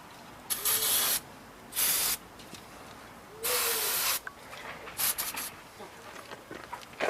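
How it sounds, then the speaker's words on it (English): Brake cleaner is sprayed onto rusty brake parts of a 2002 Honda Civic GX in four close, loud hissing bursts of varying length, separated by short pauses. "We'll take some brake cleaner."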